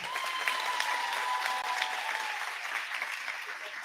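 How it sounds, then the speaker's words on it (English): An audience applauds steadily for a graduation speaker at a Class of 2025 ceremony, a dense, even wash of many clapping hands lasting throughout, with a faint sustained tone running beneath. "Please give her another round of applause."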